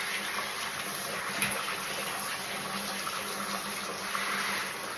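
Water running and splashing during washing of a Miniature Bull Terrier, a steady close hiss of water with faint splashes and no talking.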